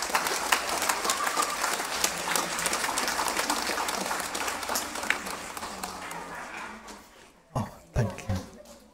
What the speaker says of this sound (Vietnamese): Xin cộng đoàn cho chúng con một tràng pháo tay thật lớn để cùng chung vui với các em.